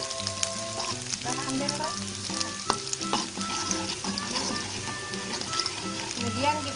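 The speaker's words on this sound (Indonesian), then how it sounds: "Bawangnya kita tumis terlebih dahulu ya, bawang putih dan bawang merahnya." Garlic and shallots stir-frying in a pan as the base for a squid dish, with a loud, continuous sizzle and scraping stirs while people talk briefly over it.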